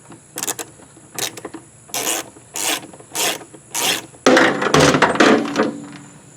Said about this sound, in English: What I'm doing is I'm taking off these two screws